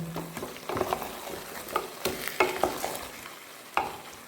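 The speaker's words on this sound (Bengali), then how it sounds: "দিয়ে দিলাম 2 টেবিল চামচ আদা বাটা আর লঙ্কা বাটা 1 টিস্পুন দিয়ে একটু নেড়ে নিচ্ছি" Ginger paste and chili paste fry in a pan while a spoon stirs them. Close sizzling runs throughout, broken by irregular scrapes and clinks against the pan.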